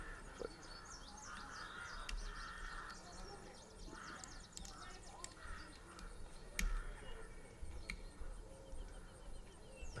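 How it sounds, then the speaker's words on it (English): Birds chirp and tweet faintly in the background throughout, a scattering of high calls over a low, steady room hum with occasional soft clicks. "I hear birds"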